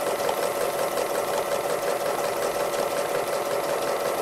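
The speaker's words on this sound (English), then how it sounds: "So we're just going to stitch around, and they have kind of scallopy stitches, so we're just going to go around each leaf." A sewing machine doing free motion embroidery, stitching scalloped lines around leaf shapes on fabric, runs with a steady fast whir and rhythmic needle hum, close and unbroken throughout.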